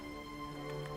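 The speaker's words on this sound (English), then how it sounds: "It's raining." Steady soft rain in the Dragon Quest X video game, a continuous even hiss of falling rain heard alone, mixed with sustained tonal game ambience and no talking.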